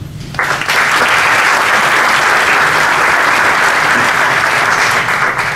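An audience at a book presentation bursts into strong, sustained applause that starts abruptly and carries on loud and dense to the end.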